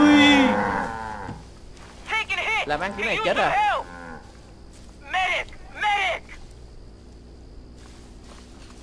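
Several loud cattle moos from a video game ring out, one long call at the start followed by shorter bursts, while someone talks over the gameplay.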